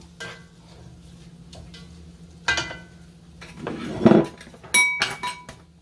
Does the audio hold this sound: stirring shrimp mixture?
yes